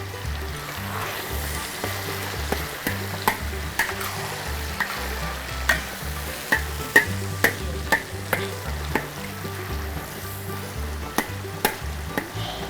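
Food frying in a pan and being stirred at home, with steady sizzling and repeated sharp scrapes and clinks of the utensil, close and fairly loud, no talking.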